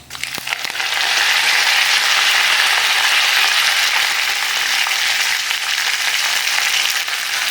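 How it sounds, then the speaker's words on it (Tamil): Curry leaves hitting hot oil with mustard seeds, split dal and fennel seeds for a tempering, giving a loud steady crackling sizzle that starts abruptly and holds for several seconds, close up with no talk. "கடுகு பருப்பு சோம்பு தாளிச்சிட்டு கருவேப்பிலை போட்டோம்."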